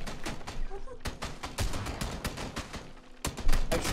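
Shotgun fire in the video game PUBG: several loud, sharp blasts go off in quick succession, with dense game noise and some voice underneath.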